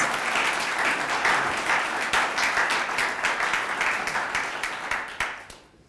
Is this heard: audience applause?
yes